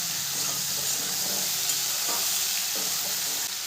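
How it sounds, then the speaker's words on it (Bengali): Jujube berries (kul) frying over a low gas flame, a steady close sizzle and hiss with occasional scrapes of stirring in the pan, no voices. "কুলটাকে আমি নেড়ে চেড়ে ভালো করে ভেজে নেব।"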